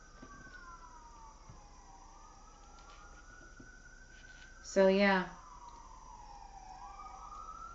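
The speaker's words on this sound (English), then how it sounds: "there's police sirens going on right now" Several police sirens wailing outside an open window, a steady rising and falling tone held faintly in the distance while a person talks briefly nearby.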